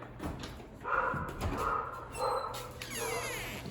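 Small dogs in a shelter's kennel room yip and whimper in short bursts nearby, with some faint clatter in between.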